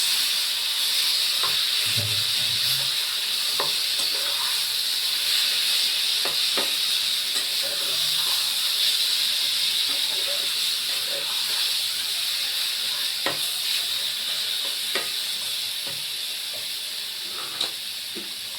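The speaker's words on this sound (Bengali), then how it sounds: "এবার আমি কচু শাকটা ঢেলে দিচ্ছি।" Taro leaves hitting a hot pan, a loud steady sizzling hiss close by that holds throughout, dotted with small crackles and scattered soft clinks, easing slightly near the end.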